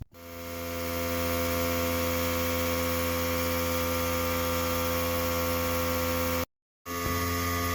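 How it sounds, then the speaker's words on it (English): An air compressor builds pressure for powder coating an antique 70-year-old French fishing reel, a steady close motor hum with a strong mains-like drone that cuts out briefly near the end, then restarts. "our compressor gets ready"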